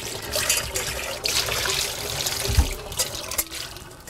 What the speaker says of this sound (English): I rinse the bowl again.